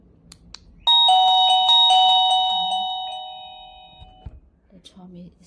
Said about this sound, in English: The chime is also wireless. As the music can choose from.